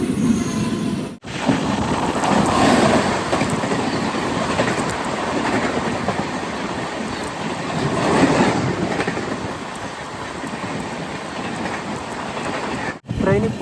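A Mangaluru to Tirunelveli Express rolls along heard from inside a sleeper class coach, a loud steady rumble of wheels and rattling carriage with faint voices, briefly dropping out twice.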